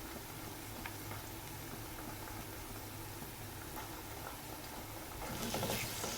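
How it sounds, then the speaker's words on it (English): Ginger garlic paste stir-fried with golden-brown onions and chopped mint gives a soft, steady sizzle under faint stirring scrapes, swelling slightly louder near the end, with no talking. "stir-fry well for at least 3 to 4 minutes, until the raw smell of the paste is gone"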